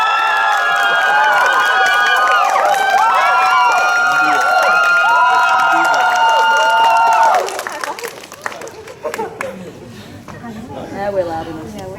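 A group of team members bursts into a loud, sustained cheer for several seconds, then breaks off abruptly into quieter crowd murmur and speaking voices.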